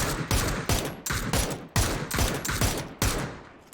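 Rapid bursts of gunfire from the video game PUBG crack out in a quick series of sharp volleys, loud and close, with short gaps between bursts.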